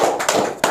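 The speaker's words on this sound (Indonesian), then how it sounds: "Tepuk tangan buat Tuhan lagi." A short burst of hand clapping from a church audience, a few sharp, close claps in quick succession with no voices over them.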